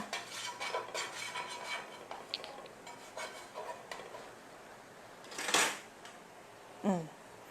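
A metal utensil scrapes and taps against a pan while spreading a little oil around it before the heat is turned on, with soft clinks and scraping strokes, a couple of sharper knocks later, and no talk.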